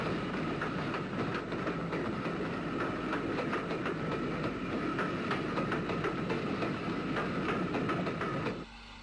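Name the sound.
S-Class steam locomotive train passing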